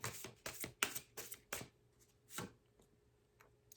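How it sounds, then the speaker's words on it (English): Tarot cards being shuffled by hand, a run of quick crisp riffling bursts close up, then a few softer taps and one last riffle as cards are pulled, with no talking. "I feel guided to pull some more cards around this"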